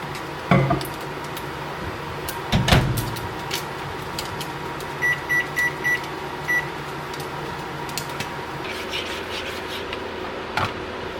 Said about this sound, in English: it's ready to go in the microwave